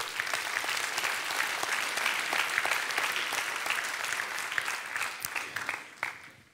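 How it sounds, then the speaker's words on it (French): At a French municipal New Year's greetings ceremony in Florange, a hall audience applauds in a sustained, fairly distant wash of clapping with some sharper individual claps, tapering off near the end. "ils méritent quand même d'être applaudis"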